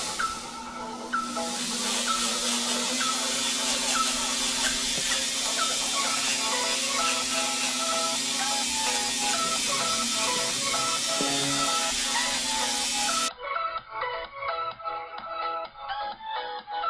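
An electric nail drill buffs around the cuticle of a fingernail, a steady high whining hum that holds for several seconds, then gives way to softer broken scraping near the end.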